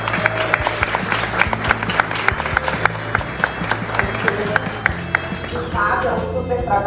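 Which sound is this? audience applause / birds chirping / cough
audience applause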